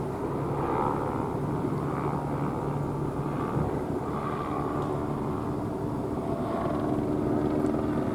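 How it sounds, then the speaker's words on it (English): A Los Angeles Police Department helicopter circles overhead, its steady rotor drone continuous and moderately loud, with faint traffic-like rumble underneath and no voices. "Los Angeles Police Department, helicopter escort"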